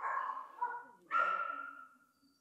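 A rescued Spanish greyhound with a severed nose gives two drawn-out, whining bark-like cries, close and fairly loud, separated by a short pause, with the sound fading toward the end.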